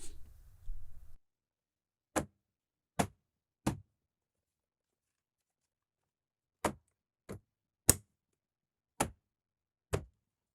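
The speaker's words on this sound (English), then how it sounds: "you can start hammering away at the door panel to lock the door panel in position" Eight sharp, solid thumps of hammering on an Audi Q5 door panel to lock it in position, irregularly spaced with near silence between blows, after a brief low rumble at the start.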